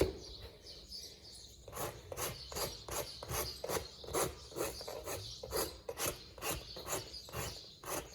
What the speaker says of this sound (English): Now I'm just gonna take the rasp, sharp one, sharp side, and go long.